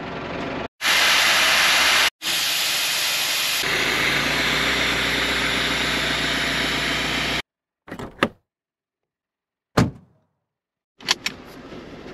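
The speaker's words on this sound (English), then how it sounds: "The most expensive tyre deflator ever." A tyre deflator releases air from a 4WD tyre in a loud, steady hiss lasting several seconds, briefly cut off and restarted, then stopping, followed by a few short clicks and knocks.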